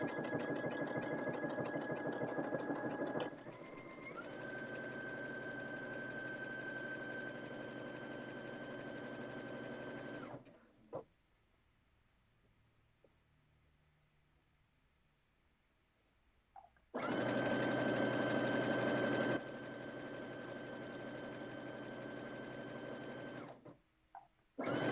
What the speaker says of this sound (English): I'm sewing these. I've got a little stretch stitch going on.